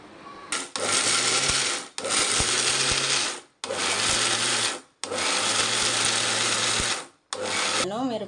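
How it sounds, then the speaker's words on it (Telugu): A mixer grinder grinds chillies for coconut chutney in repeated loud, whirring bursts of about one to two seconds each, with short silent pauses between them. "మిరపకాయలు మిక్సీ పట్టేసాను,"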